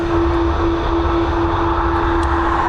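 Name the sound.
Ryanair jet airliner engines spooling up for departure at Dublin Airport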